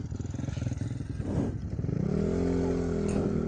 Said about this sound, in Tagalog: Diyan na yung mga kargadong motor.